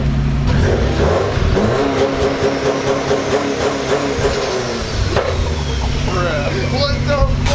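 A 500 hp Subaru STI with an aftermarket intake revving hard, its engine note rising as turbo boost builds, loud and close throughout with excited voices talking over the engine.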